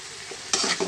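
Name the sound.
sautéing ingredients with ground nuts in a pan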